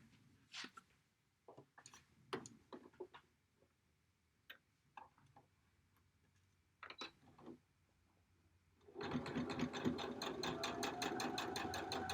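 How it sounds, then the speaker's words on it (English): Scattered handling clicks and taps come first as quilt pieces are lined up and pinned, then a sewing machine starts up and stitches straight across in a steady, close, rhythmic run for the last three seconds. "And sew straight across there."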